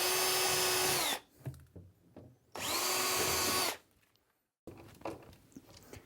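Cordless power drill boring a pilot hole into the back panel of a Cooke & Lewis 600 standard appliance housing, two sustained whining runs of about a second each separated by quiet handling clicks, then a short soft tail.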